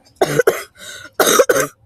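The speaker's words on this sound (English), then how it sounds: "Sorry, I'm coughing outside." A person outdoors coughs in two close, loud pairs of harsh bursts, separated by a softer throaty sound, with short silent gaps around them.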